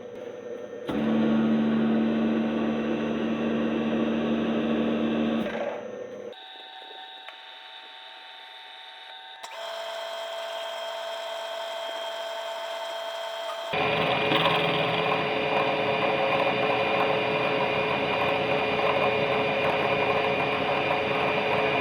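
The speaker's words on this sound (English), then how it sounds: "I'm just going to touch off and take a very light cut on this" A Kearney & Trecker Model 2D rotary head milling machine taking a very light single-pass cut with a large-diameter cutter, giving loud steady machine drone and whine that shifts pitch in several distinct stages, with no speech.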